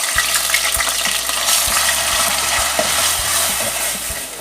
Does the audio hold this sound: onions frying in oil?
yes